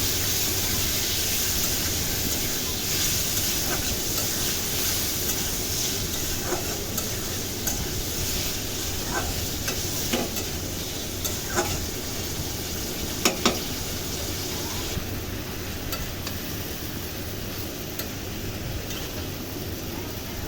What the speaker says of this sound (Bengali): এখন এটাকে নাড়াচাড়া করে রান্না করে নিতে হবে